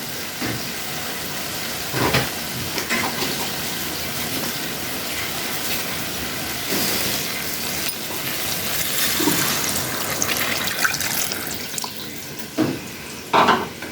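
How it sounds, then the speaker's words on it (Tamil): Water gushes steadily into a pot of chicken and potato curry for a long stretch, a continuous rushing pour with a few clanks and knocks along the way. "இந்த ஸ்டேஜில் நம்ம தண்ணி ஊற்றணும்."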